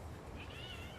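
A young kitten, about two months old, gives a single short, faint meow while playing with puppies in a garden, over a low background hum.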